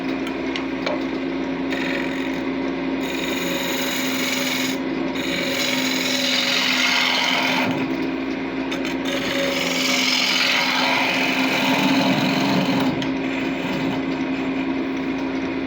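Wood lathe spinning a workpiece during thread chasing in wood, with a steady mechanical hum under continuous rasping, rubbing tool contact on the wood that swells and fades in long passes.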